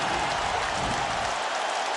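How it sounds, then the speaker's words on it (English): Dense, steady roar of a fight crowd on its feet cheering, broadband and continuous throughout with no clear individual voices, easing slightly near the end. "This crowd is on its feet."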